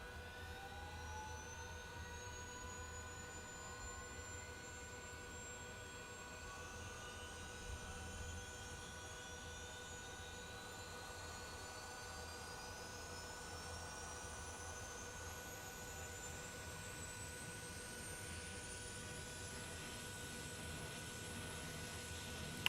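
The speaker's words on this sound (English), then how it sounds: "then we'll go ahead and hit the APU master start" A Transall C160 auxiliary power unit spools up in a flight simulator game: a steady, even jet-like whine with thin tones that climb slowly in pitch over about twenty seconds, with no voices.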